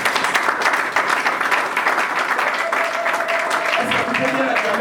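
A church congregation claps and cheers steadily, a broad, sustained wash of applause that continues throughout while a voice speaks over it.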